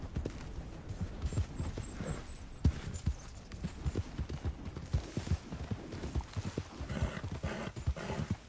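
Horse hooves in Red Dead Redemption II clop and gallop in a fast, steady rhythm, with a brief whinny and a game-world ambience around them.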